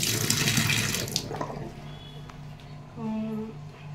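Water is poured into a pot of farm-chicken curry cooked the old-fashioned way, a loud rushing pour up front that tapers off, followed by quieter kitchen sounds and a faint voice.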